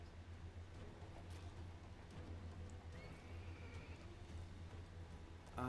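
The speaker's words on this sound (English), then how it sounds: "It's a horse." A horse in the video game Lego Marvel Super Heroes, heard as a loud whinny over a steady low hum and soft rain-like ambience, with faint hoof clip-clops mixed in.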